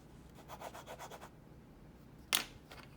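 A Parker pen scratches across paper in short, quiet rubbing strokes, a run of rapid scratchy bursts followed by a pause and one sharper scrape, close-up and faint with no voices.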